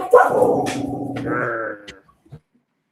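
Dogs bark loudly and close by in a casual indoor hangout, a short run of sharp, tonal barks that fade to a couple of faint yelps.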